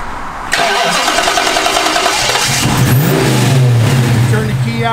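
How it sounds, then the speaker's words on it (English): A 1973 Plymouth Barracuda resto-mod with an electric fuel pump cranks briefly and its engine catches, then settles into a loud, close mid-pitched idle with a slight rev. "Electric fuel pump comes on, give it a second, and then turn the key."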